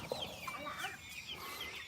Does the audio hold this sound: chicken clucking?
yes